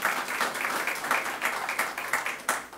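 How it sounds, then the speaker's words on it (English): A small community meeting crowd claps for the city manager, a steady patter of hands at moderate level with soft, uneven peaks, no talk over it. "Please give him a round of applause"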